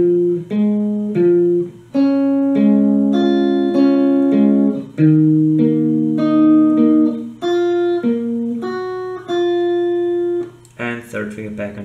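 Guitar picks out a song's interlude riff one clear note at a time, a slow melodic line of ringing single notes played close, with short gaps between phrases.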